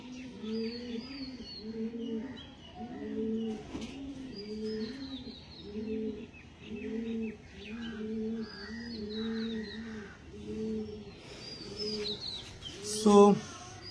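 Kalshira tippler pigeons coo in a steady repeating series of soft, low, rolling calls, close by, with a brief sharper sound near the end.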